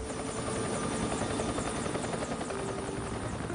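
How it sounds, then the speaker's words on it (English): Helicopters lifting off toward an airliner crash site in the Florida Everglades swamp, a steady loud rotor thrum with rapid blade chop that holds unbroken throughout. "Need to get your choppers in the air."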